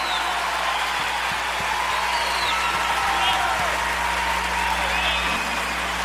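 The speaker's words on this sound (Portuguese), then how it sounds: "Uma salva de palmas para Jesus" A gospel concert crowd claps and cheers steadily throughout, a broad continuous wash with voices and whistles mixed in and a low hum underneath.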